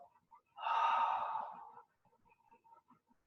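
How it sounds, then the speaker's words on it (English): Deliberate open-mouthed exhale during yoga, one long breathy sigh lasting about a second and a half, close and clear, followed by quiet soft breaths. "Exhale, ha. Open the mouth."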